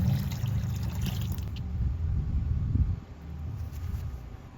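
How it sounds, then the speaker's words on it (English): Muriatic acid poured slowly from a measuring cup into a bucket of water, a soft steady trickle and splash close by, fading toward the end. "This will slowly be poured into the water."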